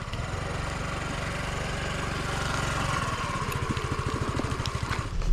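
A motorcycle engine idles steadily after starting, with a rapid low thumping pulse that grows louder and rougher toward the end; no talking is heard.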